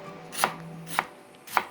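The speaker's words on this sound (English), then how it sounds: "For the onion, we're just gonna make like slices," A knife slicing an onion on a cutting board, three crisp separate chops spaced about half a second apart, close and clear in a quiet room.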